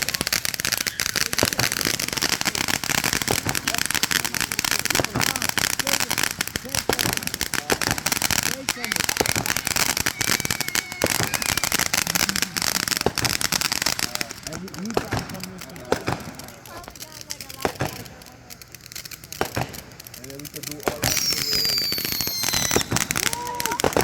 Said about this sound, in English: It's a Princess Frog that we burnt.